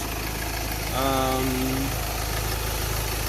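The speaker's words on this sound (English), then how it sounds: "those are the lifters making that sound" Idling Ford Ranger 2.2 engine with lifter noise, a steady close mechanical hum and ticking, with a brief voice-like tone sliding down about a second in.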